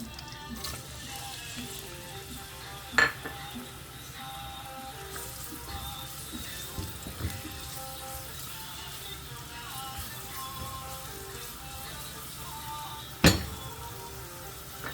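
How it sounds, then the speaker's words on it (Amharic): Chopped onion sizzles and crackles steadily in hot oil for a beetroot dish, a continuous close frying hiss with a couple of sharp clinks of utensil on pan. "አሁን ቀጥታ የምንጠቀመው ለዘይቱ እየፈላ ነው። ሽንኩርት ነው የምናደርገው።"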